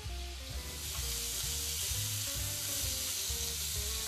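Steady sizzling of seasoned pork fillet searing in a hot pan, a continuous crackling hiss with faint clinks underneath, no voices.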